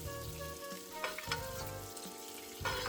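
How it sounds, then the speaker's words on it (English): Monkfish sizzles steadily in a pan of hot butter while a spoon repeatedly scrapes and clinks against the pan during basting, close and unbroken with no talk. "added my 2 tablespoons of butter, and I'm just basting. Getting that hot butter on that fish"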